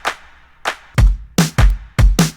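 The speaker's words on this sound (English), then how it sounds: "I added a clap as well to go in between the kicks and the snares." FL Studio pop drum pattern of kicks and snares with a clap placed between them, starting with a couple of lighter clap hits and then building into several loud, punchy kick and snare strikes.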